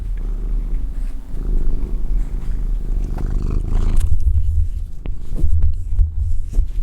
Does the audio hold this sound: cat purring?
yes